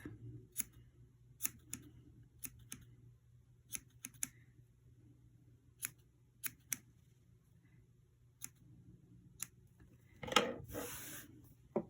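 Scissors snipping at a two-color yarn pom-pom, close and quiet: sparse, crisp individual cuts at irregular intervals, with a brief rustle of handling near the end.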